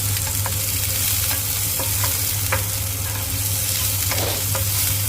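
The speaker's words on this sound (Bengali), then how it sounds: "এবার কড়াইয়ে যেটা দেবো সেটা হচ্ছে তেজপাতা, একটা শুকনো লঙ্কা, একটু জিরে 1 চামচ" Bay leaf, a dried chilli and a spoon of cumin fry in hot oil in a wok, giving a steady close sizzle with a few light stirring scrapes and clicks throughout, no voices.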